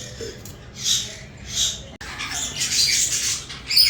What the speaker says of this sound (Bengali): কথা বলা ময়না পাখি